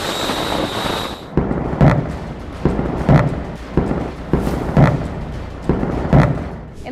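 Repeated explosion thuds from US and Israeli airstrikes on Iranian command centers and missile sites, about six heavy booms at roughly even intervals over a low rumble, loud and fairly close, with no talk.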